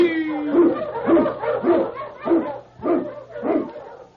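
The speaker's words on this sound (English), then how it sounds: "King, the swiftest, strongest of Eskimo lead dogs, blazes the trail through storm and snow" A husky sled dog sound effect from a 1940s Challenge of the Yukon radio drama barks about seven times in a steady, rapid rhythm, close and loud with no talking.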